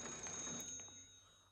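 An old telephone bell rings faintly in a film scene, a quiet metallic trill that fades out after about a second.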